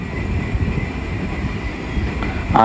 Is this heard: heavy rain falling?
no